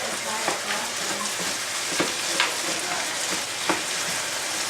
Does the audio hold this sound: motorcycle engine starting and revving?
no